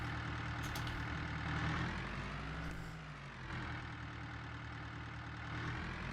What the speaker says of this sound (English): This is a loud truck.